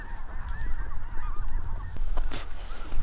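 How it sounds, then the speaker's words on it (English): A massive flock of snow geese honks continuously, countless overlapping calls forming a dense, loud, wavering chorus with no speech. "Thousands and thousands and thousands of birds are already on the ground too."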